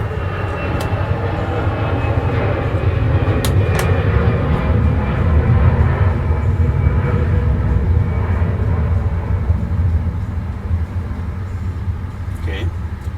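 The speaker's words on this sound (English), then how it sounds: "Bloody airplanes, shut up." Airplanes pass overhead, a broad steady roar that swells in the middle and fades toward the end, heard from indoors beneath someone talking over it, with a few sharp clicks close by.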